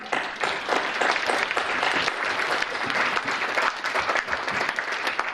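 Conference audience gives a warm welcome to a keynote professor with sustained applause: dense, continuous clapping from many hands, fairly loud and even throughout, with no speech over it.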